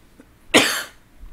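One sharp, close cough, loud and alone, bursts out and fades within about half a second, with no talk around it.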